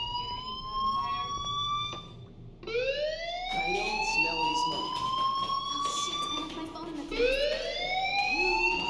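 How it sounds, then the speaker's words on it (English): A fire alarm in the video game Life Is Strange, heard as repeated rising electronic siren-like wails, moderately loud against a background hum, with no one speaking over it. "do you hear that fire alarm? That means you should be outside."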